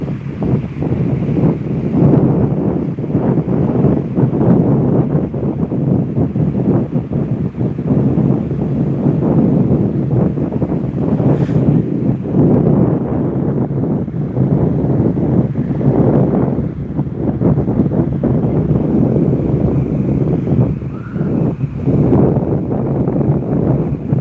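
Strong wind buffets the microphone in Waimanalo on the windy east side of Oahu, a loud, steady roar with gusts that never lets up.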